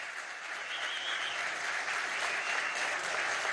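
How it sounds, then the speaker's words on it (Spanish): An audience at a civic gathering in Barquisimeto gives sustained, even applause for Father Oscar Freite, a continuous rush of many hands clapping at moderate volume. "Un aplauso por su constancia, por su tesón, por su tenacidad, por su fuerza."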